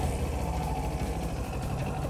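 A Kawasaki Z400 motorcycle engine sits idling after being started, a steady, even low rumble held close and constant through the short stretch, with no talk over it.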